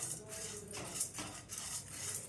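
Lentils, coriander seeds and cumin are stirred as they dry-roast in a pan for drumstick leaf spice powder, with a steady faint scraping and rustling and soft periodic strokes of the spoon.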